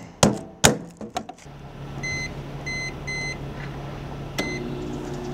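A microwave oven cooking lunch on an ebike's 3000 watt inverter: a few sharp thunks of the door and handling, then a low steady hum with several short repeated beeps and a final beep.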